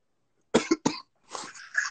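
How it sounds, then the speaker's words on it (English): A few sharp coughs in quick succession, followed by a rougher, drawn-out cough, close and fairly quiet. "I'm coughing all year round"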